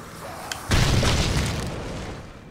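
Explosive ghoul enemies blowing up in the Darksiders II action game, a sudden booming blast after a small pop, followed by a rumbling, fading roar of debris.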